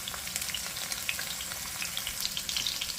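Salmon frying in a pan makes a dense, continuous sizzle with fine crackling pops throughout, fairly close and steady.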